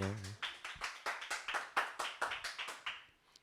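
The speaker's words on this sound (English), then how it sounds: "clap it up for yourselves being here" A small comedy-show audience claps for themselves, a thin run of distinct, roughly rhythmic hand claps that rises and falls, with a brief voice at the start before the claps taper off.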